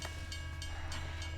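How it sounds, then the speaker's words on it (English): A train sound effect from a high school stage production of The Hound of the Baskervilles rolls steadily, with an evenly spaced clickety-clack of wheels over rail joints under a low rumble. "The train hardly gets here in time."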